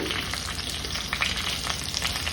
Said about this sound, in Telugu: కొంచెం మినపప్పు, కొంచెం జీలకర్ర, ఇట్లా వేగుతూ ఉంటాయి.